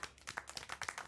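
Hand clapping in the video game Syberia World Before: a short, quiet burst of roughly seven or eight claps in quick, slightly irregular succession, heard on its own.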